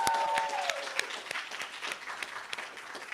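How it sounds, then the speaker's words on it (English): An audience at a public conversation with poet Sonia Sanchez applauds, a crisp, steady spread of clapping with a few sharp individual claps standing out, heard alone without talk. "I think we should give a round of applause to Sonia Sanchez"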